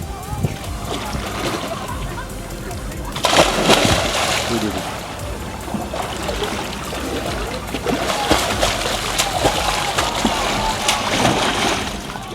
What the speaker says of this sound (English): Gonna dive into the Santorini Ocean.